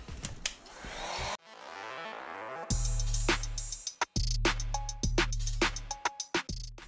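A heat gun or hair-dryer-style blower sets airbrushed paint on a large musky lure, a loud continuous rushing whoosh broken by sharp clicks and short knocks as the tool is switched and handled.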